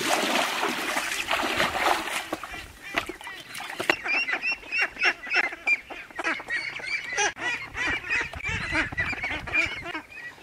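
Many ducks and geese on a rural mountain farm honk and quack in a dense, overlapping chorus, loud and fairly close, with calls repeating almost continuously throughout.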